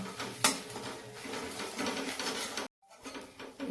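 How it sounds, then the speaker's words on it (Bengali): Turmeric and chili powder being stirred into coriander powder in a pan for a cauliflower dish, short clattering scrapes of a spoon against metal, broken by a brief silent gap near the end. "এর মধ্যে দেবো সামান্য হলুদ আর দেবো সামান্য লঙ্কা গুঁড়ো ভালো করে নাড়িয়ে নেবো"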